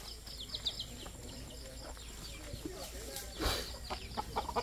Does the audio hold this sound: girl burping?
no